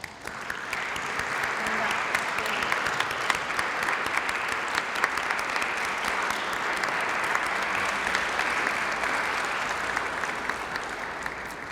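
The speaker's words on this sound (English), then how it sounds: "would all our staff please stand up and take our applause." Sustained applause from a graduation audience fills the hall as school staff stand, a dense even clatter of many hands lasting several seconds without a break.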